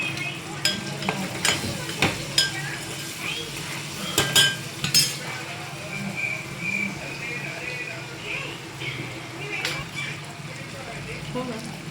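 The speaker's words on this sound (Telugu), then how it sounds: "ఇంకా కొంచెంసేపు ఫ్రై అవ్వాలి ఇందులో కొంచెం అల్లం వెల్లుల్లి పేస్ట్ వేసుకోవాలి" Chicken sizzles steadily in a pan as a utensil stirs it, with repeated metallic scrapes and clinks against the pan. A person talks over the frying, close to the pan.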